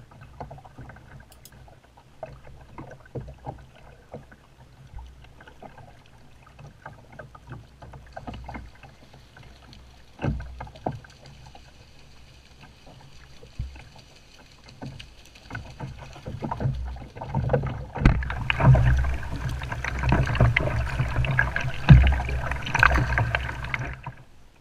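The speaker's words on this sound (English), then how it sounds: "a perfect time for a kayak trip down Bass River" Quiet kayak paddle strokes and water sloshing around the boat on Bass River, Cape Cod, faint at first, then growing louder with lapping and gurgling near the end.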